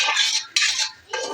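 Cooked toor dal being stirred in a pan for dal palak, with three quick scraping strokes of a utensil against the metal close up, no voices.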